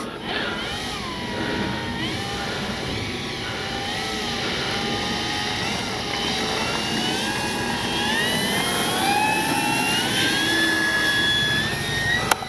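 An electric RC Flightline 1600mm P-51D Mustang model plane takes off with a continuous whining motor that rises in pitch and loudness as it accelerates, with steady wind noise throughout.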